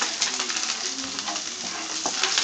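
Ginger and garlic sautéing in hot oil in a pan for fish pulao, a steady close crackling sizzle with small irregular pops.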